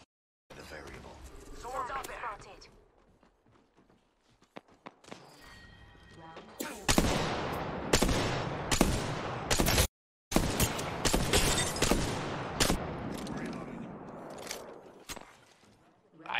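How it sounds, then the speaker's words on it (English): Apex Legends gunfire comes in scattered bursts and sharp cracks, some close and some distant, mixed with game effects and broken by a brief dropout. Players talk over the shooting. "Getting shot at."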